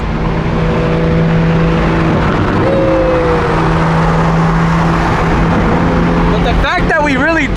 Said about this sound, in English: you guys hear the turbo?